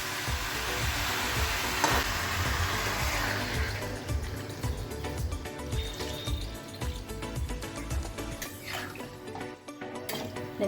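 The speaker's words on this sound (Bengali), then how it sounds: "এটার মধ্যে আমি এখন জল দিয়ে দেবো।" Water poured into mutton curry frying in a pan, a steady loud hissing sizzle that holds for several seconds and slowly eases off, with faint clinks of utensils.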